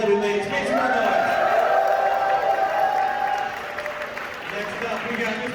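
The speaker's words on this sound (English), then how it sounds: "Make some more noise. Come on, for both of these lovely ladies" Applause and cheering from a convention crowd at a Power Morphicon 2022 panel, a steady roar of clapping with high whoops that eases off midway, with voices talking under it.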